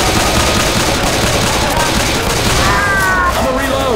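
Dense, continuous automatic gunfire from the video game Left 4 Dead 2 rattles loudly and without a break, with a few faint tonal game effects toward the end.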